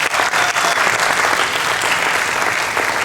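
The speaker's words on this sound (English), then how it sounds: "Yeah, we need to applaud." Audience at a Connecticut EKAL opening event bursts into loud, dense applause that fills the whole moment without letup, many hands clapping at once.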